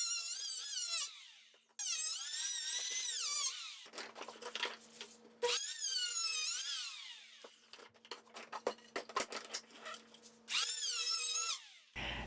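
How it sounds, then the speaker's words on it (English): Power hand planer with carbide tips stripping concrete off lumber: several loud whining passes with rising and falling pitch, separated by quieter scraping and clunks between runs. "Then I'm going to use a hand planer to take off any of the concrete."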